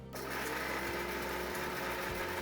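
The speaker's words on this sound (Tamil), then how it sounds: "நான் மிக்சியில் ஒரு சுத்து சுத்த விட்டு எடுக்க போகிறேன்" A mixer grinder coarsely grinding coriander seeds, fennel and cumin, a loud steady motor whir running continuously, close up, with no talking.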